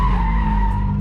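Tires of a freshly engine-swapped BMW E36 skid in a sustained, steady squeal while drifting on a track, with a loud engine drone underneath and no voices.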